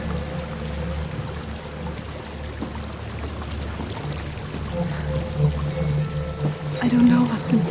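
A waterfall in the video game Hellblade: Senua's Sacrifice gives off a steady broadband rush of falling water, constant and moderately loud, with a low rumble underneath and a few faint extra sounds near the end.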